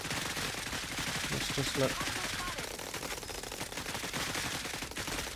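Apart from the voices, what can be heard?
gunfire in the video game Cepheus Protocol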